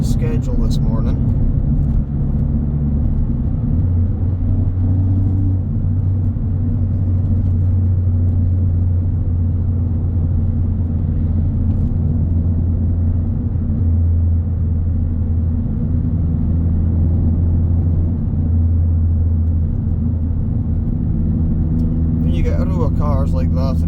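A car drives through morning traffic, its engine and road noise forming a steady low rumble heard from inside the cabin for the whole stretch.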